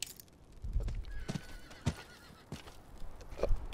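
Horse in the video game Diablo 4 whinnying alongside hollow clip-clop hoofbeats, several distinct hoof strikes and a drawn-out neigh, close and clear over quiet game ambience, with no voice.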